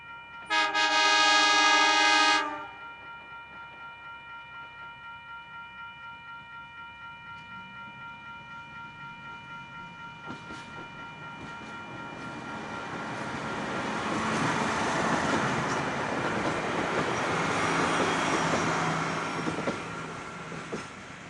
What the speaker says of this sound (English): the train crossing Port Elliot Road just east of Midleton